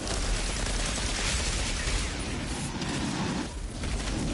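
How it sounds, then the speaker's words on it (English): Gunfire in the video game Outriders from a legendary shotgun, loud and dense with rapid overlapping blasts and bursts, a brief dip near the end, then more firing. "This friggin' shotgun, man, is supposed to be like a legendary kind of weapon"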